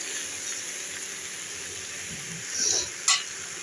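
Cabbage fries in a pan on a home stove with a steady sizzle, then a brief stirring scrape and a sharp utensil clink near the end.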